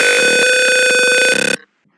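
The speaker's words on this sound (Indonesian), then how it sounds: "nanti otomatis buzzer atau alarm ini akan bunyi karena dia mendeteksi sebuah adanya gas gitu" Arduino-based gas sensor buzzer alarm sounding a loud, steady electronic tone with harmonics that pulses briefly at the end before cutting off to silence.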